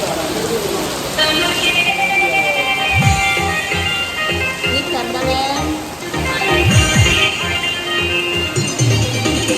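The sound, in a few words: heavy rain in Delhi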